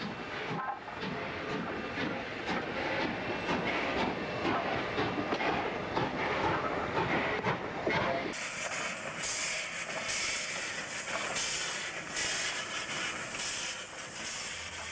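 A steam locomotive in New South Wales, Australia, chuffs rhythmically while hauling a passenger train, with steady hiss and rumble, then a sharper high hiss joins partway through; no talking.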